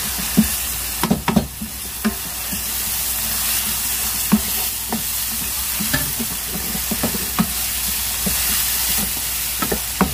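Chana dal fries in a pan with ginger, a steady sizzle under repeated scrapes and knocks of a spoon stirring it, the clatters uneven and close.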